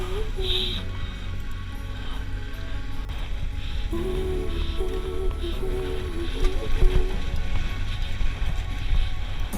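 A motorcycle engine labors up a rough, bumpy trail on the Alta Via del Sale mountain route, holding a steady, droning throttle with shifting pitch under constant wind buffeting.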